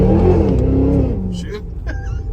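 A cammed 2023 Cadillac Escalade V, running rear-wheel drive with its front driveshaft removed, revs hard and spins its tires, a loud close engine roar that falls away as talk and tire noise follow.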